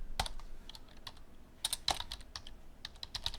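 Keys on a computer keyboard clack in short, sparse bursts, close and fairly quiet, with single taps and quick clusters of presses spread over a few seconds in a quiet room.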